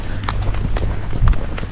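Hooves of a gaited horse at a flat walk sound a steady, evenly spaced clip-clop of about four beats, close and fairly loud over a constant low background rumble.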